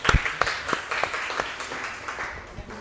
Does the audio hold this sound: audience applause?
yes